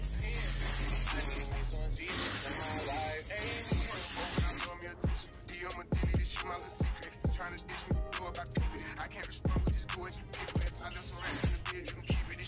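A fine aerosol makeup setting spray hisses in a long continuous burst, then comes in quick repeated short puffs, close and fairly loud.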